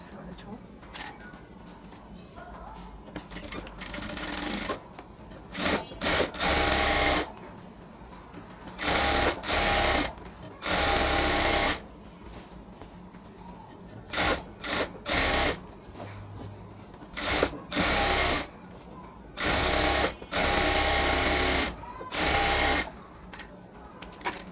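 A sewing machine stitching the leg of a ladies' pant runs in loud, close bursts of a few seconds each, separated by pauses in which a person talks.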